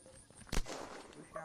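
A single sharp gunshot crack in a military shooter video game, near and loud, followed by a brief rumbling tail and faint background noise.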